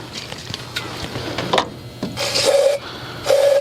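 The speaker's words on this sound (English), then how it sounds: "Now let's put some brake cleaner there so it will" Brake cleaner sprays onto an oily engine part of a 2004 Mazda MPV in two loud hissing bursts, preceded by scattered rubbing and clicking handling noises close by.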